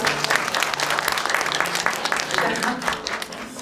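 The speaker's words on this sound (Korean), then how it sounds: "박수!" A room full of people claps steadily and enthusiastically for several seconds, dense overlapping applause.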